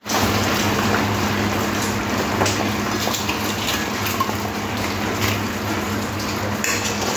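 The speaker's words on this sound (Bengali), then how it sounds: "সব ভেজে রাখা মাছগুলো দিয়ে দিলাম।" Fried chitol fish slide into boiling curry gravy, a steady close sizzle and bubbling wash with a constant low hum beneath, no talking.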